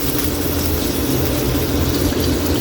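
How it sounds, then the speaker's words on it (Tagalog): Water pours steadily into a cooking pot for a soup dish, a loud, continuous close-up rush and splash with no pauses or voices. "Lalagay na tayo ng tubig dyan."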